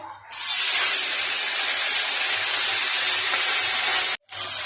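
Raw prawns drop into hot oil in a pan and set off a loud, steady sizzle that holds for about four seconds, cuts out briefly, then resumes.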